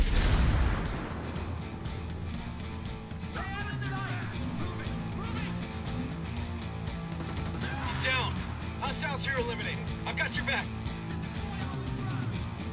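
Ghost Recon Breakpoint firefight against a convoy: a sharp opening burst, then continuous rumbling volleys of gunfire and booms with rapid crackling shots layered over a heavy, steady bed, game dialogue and radio chatter audible throughout.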